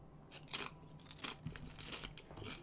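Crunchy food being chewed, with a run of irregular crisp crunches and bites close to the mic at a fairly low level, no talking.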